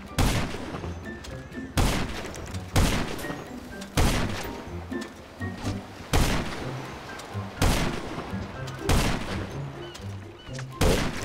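Repeated gunshots in the GTA video game, loud broadband bursts arriving in irregular clusters roughly every second or two over a busy game soundscape.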